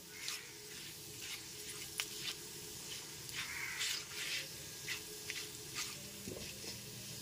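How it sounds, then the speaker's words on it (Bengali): Bay leaves, dried chillies and cumin frying in oil over a low flame, a close crackling sizzle with repeated sharp spitting pops and occasional scraping, no speech. "এবার গ্যাসের ফ্লেমটা লোতে রেখে হালকা করে ফোড়নটা ভেজে নিচ্ছি।"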